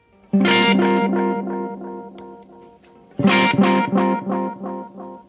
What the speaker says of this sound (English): Now that switches between what he calls delay and echo, which darkens the trail.